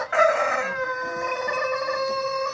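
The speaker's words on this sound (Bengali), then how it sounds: "এগুলো ব্রাহ্মা মুরগি, কলম্বিয়ান বাফ, কলম্বিয়ান বাফ ব্রাহ্মা" A Brahma rooster of the Columbian Buff variety, golden-coloured, crowing once close by in a long drawn-out call, with other chickens murmuring faintly behind it on a farm.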